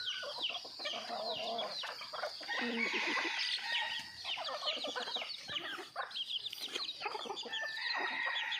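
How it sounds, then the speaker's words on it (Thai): A busy chorus of backyard hens clucking and chicks peeping, overlapping continuously at close range with no pauses. "นี่ก็แม่ไก่ลูกไก่เรื่อยๆครับ"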